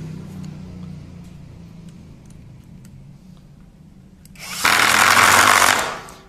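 A Tekiro 20V cordless impact driver runs at speed 2: after a quiet stretch, a loud, rapid, hammering rattle bursts in near the end and holds for about a second and a half before cutting off.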